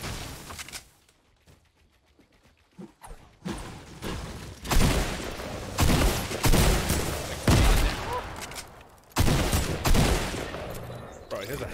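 Rapid bursts of Fortnite gunfire, loud and close, repeating in several volleys after a quieter start, with brief talk mixed in.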